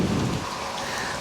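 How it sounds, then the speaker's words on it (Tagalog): Heavy rain pours steadily on a rainy day at Apo Reef during a free diving trip, a dense, loud hiss of drops on surfaces with no voices, filling the whole short moment. "Sobrang maulan ngayon."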